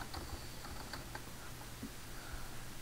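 Faint, quick keystrokes on a computer keyboard in short bursts against a low hum, with no speech.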